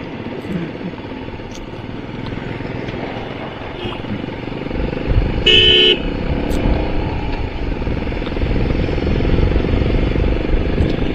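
A motorcycle rolls slowly through the Sela tunnel in Arunachal Pradesh behind a lorry, its engine a close steady drone that swells midway, with tunnel rumble and a brief bright clatter.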